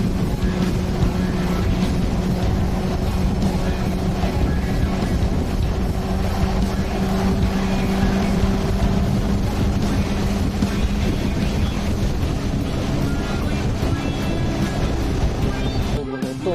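Riding a twenty-year-old Japanese Honda CB400 motorcycle, a continuous engine drone blends with heavy wind roar against the microphone, loud and unbroken throughout.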